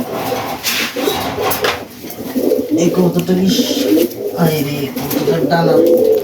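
Black Lakka pigeons coo repeatedly at close range, their soft throaty calls running under someone talking, with light clatter from the birds being handled.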